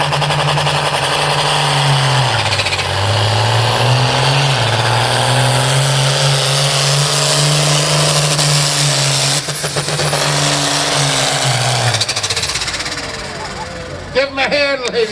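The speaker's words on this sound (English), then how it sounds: "Neil Driscoll spooling up the Hawaiian vacation." A pulling truck at a truck and tractor pull, its engine roaring loud and sustained, spooling up with the pitch dipping and climbing through a long run before fading at the end, with a crowd and announcer underneath.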